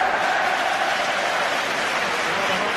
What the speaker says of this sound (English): The Hearts fans cheering everything.